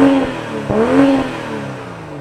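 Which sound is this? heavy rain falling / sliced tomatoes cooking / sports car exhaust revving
sports car exhaust revving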